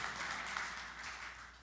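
A church congregation applauding during a sermon, a steady wash of many hands clapping throughout, moderately loud and slowly fading.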